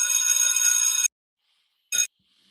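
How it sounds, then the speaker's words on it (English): A bell sound effect chimes once in a bright sustained ring of about a second, then returns for a short second ding, loud and clear with no other sound around it. "let's hit the bell"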